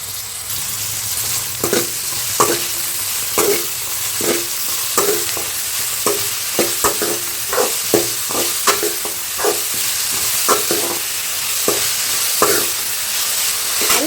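Chopped big onions with salt fry in a pan for a gravy, giving a steady close sizzle. Frequent irregular scrapes and clacks of stirring cut through it, and no one talks.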